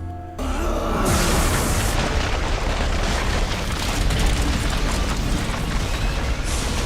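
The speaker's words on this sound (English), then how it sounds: "With a bloody tear and the explosion of her body and her castle, we say goodbye to Carmilla" A huge animated explosion tears apart a vampire's body and her castle, a loud sustained roar that bursts in abruptly and rumbles on dense and heavy throughout.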